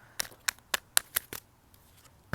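Tarot cards riffle in a quick series of about six crisp, snappy shuffles close by, then a pause before one more flick.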